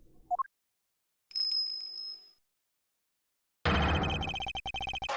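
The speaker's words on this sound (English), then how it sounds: "That sound. Is that a bell?" A bell rings in the Ace Attorney Investigations 2 video game, a bright sustained chime with a clear ringing tone, after a short rising blip and a pause, followed by a louder dense burst of game sound effects.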